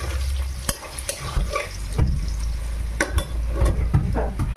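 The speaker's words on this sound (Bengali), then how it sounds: "আমি এদিকে রান্না করছি, আলুটা ভেজে নিচ্ছি" Close, steady sizzle of potatoes frying in a pan, with scattered clicks and scrapes of a utensil stirring.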